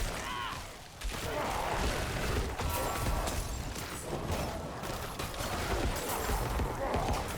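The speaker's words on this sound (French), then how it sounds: "Là, c'est l'explosion de cadavre automatique" Automatic corpse explosions in a necromancer video game, dense crackling and booming blasts layered over constant busy combat noise, loud and continuous throughout.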